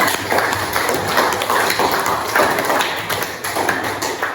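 Students in a classroom applaud, a dense, loud, continuous clatter of many hands clapping at close range that holds steady for several seconds.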